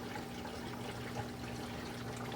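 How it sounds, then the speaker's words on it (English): Water flows steadily through an aquarium filter chamber, making a soft, continuous trickling wash with a faint low hum underneath, quiet and close. "The water travels out the bottom of that chamber"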